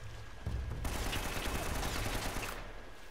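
Enemy gunfire rattles in Uncharted: Drake's Fortune, a dense continuous burst of shots that starts abruptly and holds for a couple of seconds before easing off.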